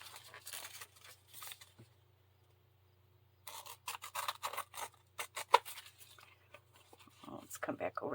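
Scissors snipping paper for a beginner folio journal, close and quiet, in several bursts of rapid cutting separated by pauses, with soft rustling between.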